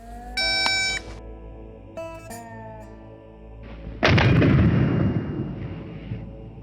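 A few electronic beeps sound, then a single loud blast from a Breda B12i shotgun booms close by and its echo rings out and fades.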